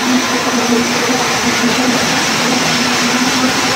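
A water pump engine runs steadily while drawing drinking water from an evaporator, a loud continuous drone with a constant mechanical hum and no pauses.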